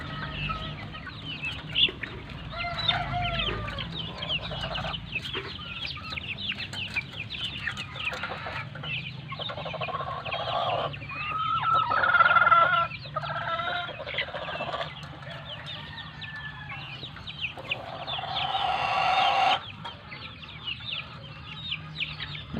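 Hens clucking and murmuring in a farmyard, with scattered calls rising and falling over steady low background noise; no talking.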